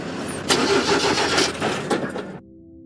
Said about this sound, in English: He got his car started.